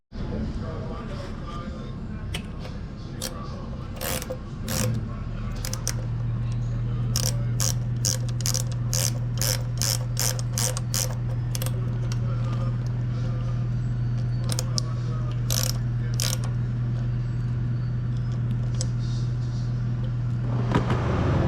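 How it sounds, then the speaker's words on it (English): A ratchet tightens the axle bolt and nut on a Yamaha RD400 motorcycle, giving close, rapid clicking bursts in repeated runs over a steady low hum and background noise. "Tighten this bolt and nut."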